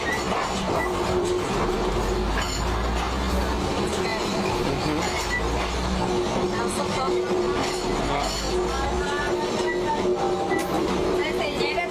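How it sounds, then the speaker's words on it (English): A train rolls through a crowded market in Thailand with a loud, steady rumble and rhythmic clatter of wheels on rails, continuous and close, with busy background noise throughout. "trains barrel through every couple of hours"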